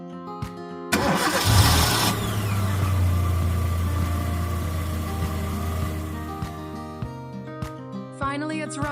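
A 1991 BMW 850i being restored turns over and fires, its engine catching with a loud burst and then settling into a steady near idle, with a few clanks and a voice speaking near the end.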